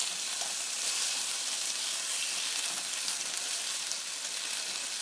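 Beef loin and onion sizzle steadily in a hot pan, a loud, continuous bright frying hiss that holds evenly throughout with no voices.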